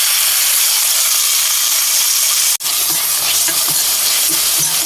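Small fish and a piece of tomato fry in a pan and are stirred, giving a loud, steady sizzle with soft scraping. The sizzle drops out for a moment midway, then resumes.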